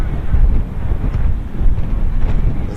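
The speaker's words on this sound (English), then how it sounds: "A windy day like this" Gusty wind buffets an outdoor microphone at a women's Super League football match between University and South Hobart, a steady low rumbling roar that swells and eases throughout without any clear voices.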